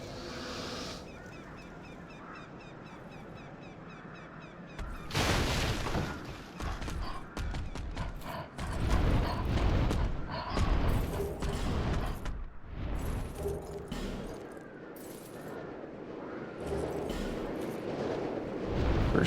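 Explosion in the dark fantasy video game Dark Souls II: a loud broadband burst at about five seconds, then a rumbling, crackling roll of blasts and impacts that gradually fades, with quieter game sounds before and after.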